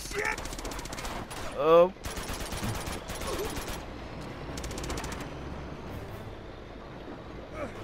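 Heavy gunfire from a tank in the Uncharted 2 video game, with rapid machine-gun bursts and explosive blasts over a rumbling battle background, and a voice briefly exclaiming under the noise.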